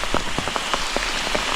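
Rain falls steadily outdoors among trees, with a constant hiss of rain on surfaces and distinct close raindrops striking in an irregular rhythm.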